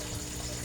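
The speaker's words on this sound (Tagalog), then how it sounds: "ang submersible pump ko na ang lakas niyang mag-vacuum ng tubig at saka ang lakas niyang mag-waterfalls" A submersible pump drives a strong stream of water into a small waterfall, producing a steady close splashing rush that holds evenly through the moment without voices.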